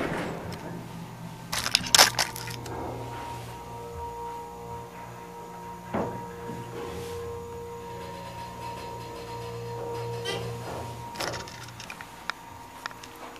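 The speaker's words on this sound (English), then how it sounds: "Listen to the motor." A Dover elevator motor in a building hums steadily with a low drone, interrupted by mechanical clunks, clicks and rattles at irregular moments.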